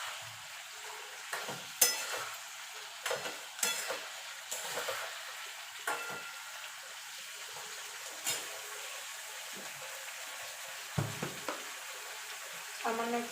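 Lentil fritters being stirred into simmering moong posto in a pan, a soft frying sizzle broken by repeated scraping and stirring knocks of a spoon.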